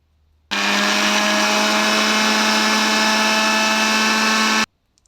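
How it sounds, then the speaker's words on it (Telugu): Mixer grinder running at full speed as it grinds cooled masala for a hotel-style ivy gourd (dondakaya) curry gravy in a mixie jar, a loud, steady whirring roar that starts abruptly, holds for about four seconds, then cuts off. "ఇంకా మిక్సీ పెట్టేసుకోవాలి మిక్సీ జార్లో వేసుకొని"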